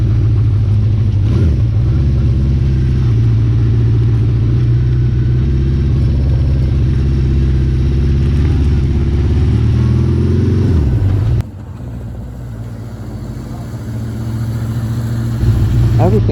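A classic Honda CB550 K3 motorcycle engine runs steadily while riding, a loud, continuous mid-pitched drone that dips briefly near the end, with a voice talking over it.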